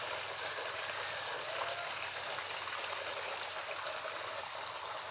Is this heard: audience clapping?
no